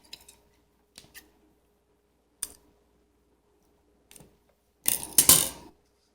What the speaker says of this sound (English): And then I'm going to cut my thread.